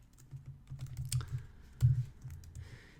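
Keystrokes on a computer keyboard rattle in short irregular bursts while entering map-tile code in nanDECK software, close and fairly quiet, with a louder cluster of taps midway.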